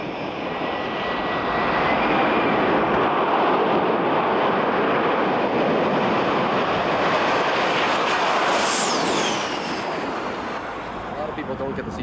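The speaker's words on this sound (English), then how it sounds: "nothing compares to the jet cars." A 1980s jet-powered dragster car with a long, skinny rail-style body gives a sustained, loud roaring whoosh. The roar builds, holds steadily and then eases slightly, with a rising whistle near the end.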